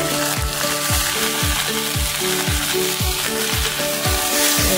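Vegetables and spices fry in a pan with a constant dense sizzle, while a spatula scrapes and stirs in a regular rhythm of repeated strokes about twice a second, close and loud, with no talking.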